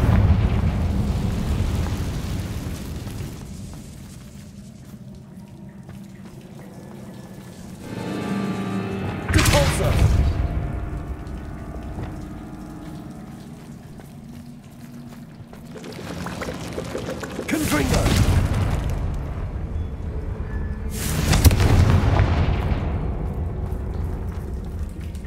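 Confringo spell blasts in Hogwarts Legacy erupt as heavy, booming explosions with long rumbling tails, three big bursts spaced across a low, steady roar of game ambience.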